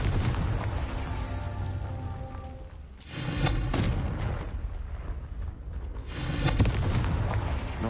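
Confringo fire spell explosions in the game Hogwarts Legacy: heavy booming blasts with rumbling tails over a steady roar of battle ambience, one big hit near the middle and another near the end.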